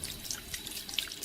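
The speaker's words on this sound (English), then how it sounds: "We've got the sound of pouring" Water pouring, played back as a sound sample: a quiet, thin trickle and splash with scattered drips, heard alone.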